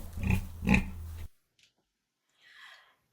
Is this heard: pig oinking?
yes